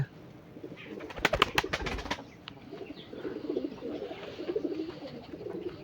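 Pigeons coo softly in the background over a steady low hum, with a brief burst of sharp clattering early on.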